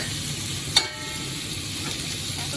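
Fried mac and cheese sizzles steadily in hot oil, a constant crackling hiss with a brief clatter near the start and no talking.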